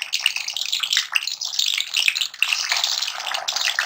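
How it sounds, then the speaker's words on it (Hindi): Chicken pieces frying in hot oil: a steady broadband sizzle and crackle throughout, close and continuous with small pops. "जी ये ऑयल गर्म हो चुका है। इसके अंदर हम जो है पीसेस ऐड करेंगे चिकन के।"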